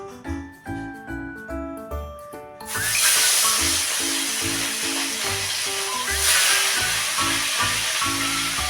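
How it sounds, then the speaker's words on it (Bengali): Fish dropped into hot oil bursts into a loud, steady hiss and sizzle partway through, continuing close up after a stretch of background music that keeps playing faintly underneath. "তেলটা গরম হয়ে গেছে, মাছটা ভেজে নিতে হবে।"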